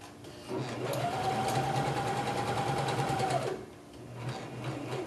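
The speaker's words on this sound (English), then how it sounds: "You'll just do a quick go around the edge, sew it together." A sewing machine runs steadily for about three seconds, stitching around the edge of a small doll diaper, loud and close, with quieter pauses before and after.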